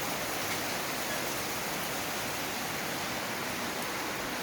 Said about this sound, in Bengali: ঝিরি ঝিরি বৃষ্টি না,